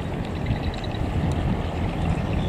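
Trawler boat engine droning on a crowded river in Kiên Giang, a loud continuous low rumble with water wash, steady and close throughout.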